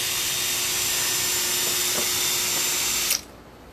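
Steady abrasive hiss of 500-grit sandpaper rubbed quickly back and forth on a plastic car headlight, close up, stopping abruptly near the end.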